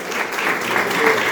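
Church congregation at an Easter service giving a loud, close burst of sustained clapping that fills the short moment.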